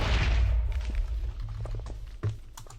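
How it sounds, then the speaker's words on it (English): Explosion from a bow's arrows in a Minecraft-style block video game, a loud booming blast at the start that rumbles and fades, followed by a couple of smaller thuds. "It makes that explosion, but it doesn't actually destroy blocks."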